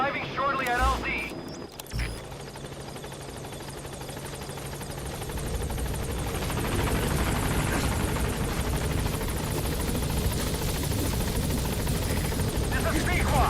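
A helicopter in the Metal Gear Solid V video game arrives at a landing zone. Its rotor drone swells and grows steadily louder after a brief voice and a sharp transition near the start.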